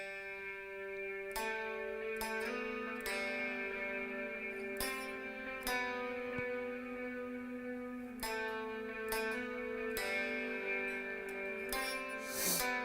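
An electric guitar plays a turnaround of ringing chords and single notes, soaked in bloom reverb and dotted-eighth delay that leaves shimmering repeats trailing each attack, fairly quiet and without talk.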